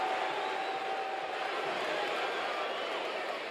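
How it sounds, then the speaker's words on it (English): A 1985 professional wrestling arena crowd cheering in a steady, dense roar that stays loud and unbroken throughout. "I never in my life thought I would live long enough to have fans cheering so tremendously"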